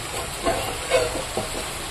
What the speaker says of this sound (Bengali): এবার হচ্ছে আলু ফুলকপিটা ভাপিয়ে নেব।